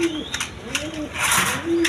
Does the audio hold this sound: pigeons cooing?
yes